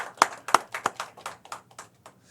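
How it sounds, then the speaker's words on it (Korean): A church congregation claps in a short burst of sharp, distinct hand claps that quickly thin out and fade away within a couple of seconds. "우리 박수 한번 드려야 되지 않겠어요?"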